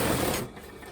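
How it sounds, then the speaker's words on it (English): A sewing machine stitches down the seams of a satin pillowcase in a brief, loud mechanical whir that cuts off after about half a second. "All the overlocking pieces, I'm just going to stitch down to reinforce them."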